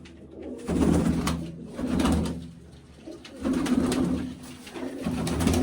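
Pigeons in a coop give repeated low cooing calls in waves, fairly close and steady, with no talk over them.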